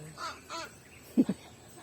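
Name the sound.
serpent eagle calling at Philippine Eagle Center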